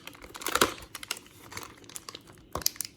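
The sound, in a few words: ripping paper packaging off a doll box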